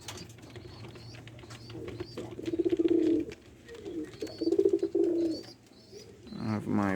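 White homer pigeons coo in a loft, giving two soft rolling bursts of cooing close to the microphone while a person talks over and between them.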